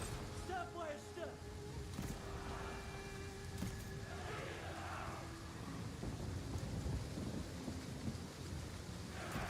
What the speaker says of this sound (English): Rain causing us a little bit more issues.